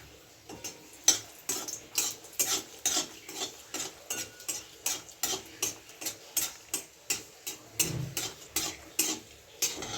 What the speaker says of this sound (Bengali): শুকনো লঙ্কাগুলো ভাজা হয়ে গেল